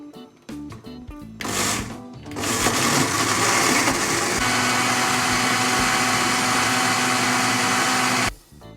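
Electric blender whirring loudly and steadily as it mixes orange cake batter with oil, starting after a few brief clunks and running continuously for about six seconds before cutting off.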